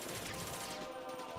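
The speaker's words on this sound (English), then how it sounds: "they keep hitting me with bullets" Muffled, rapid gunfire from the Metal Gear game peppers the player, a dense continuous barrage of shots that stays fairly faint throughout, with no speech.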